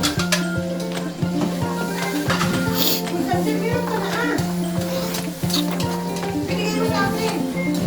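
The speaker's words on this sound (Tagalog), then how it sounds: "Habang pinag uh, halo-halo natin at pinapupula-pula ng konti yung ating uh, bawang" Garlic sizzles in a hot pan for sisig while a utensil stirs it, a steady frying hiss with scraping strokes, heard under a tonal background of music.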